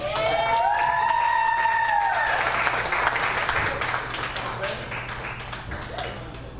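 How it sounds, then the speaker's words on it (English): Comedy club audience applauding a comedian as he takes the stage, steady clapping with whoops and cheers at the start, gradually thinning out. "Please give him a round of applause."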